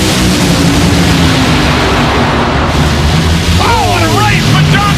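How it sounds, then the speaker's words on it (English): Funny car drag race engine blowing up during a run with John Force, heard as a loud, dense roar of engines and crowd noise throughout, with a commentator's voice rising near the end. "Gets a big explosion"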